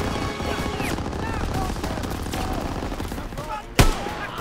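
Rapid gunfire rattles through a Call of Duty WW2 firefight, dense overlapping shots with a sharp louder bang near the end.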